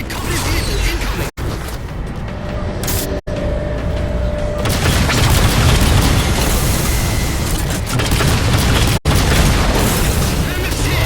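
Heavy booming explosions and mechanical rumbling as a Mammoth vehicle takes a hit in the Halo 4 video game, loud and sustained with sharp breaks, while voices talk over the action.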